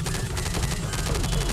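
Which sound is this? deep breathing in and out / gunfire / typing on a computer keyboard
gunfire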